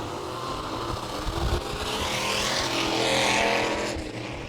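Factory stock cars race down the main stretch at Tulsa Speedway toward the checkered flag. Engines roar as a broad, steady rumble that swells and fades as the cars pass at moderate distance.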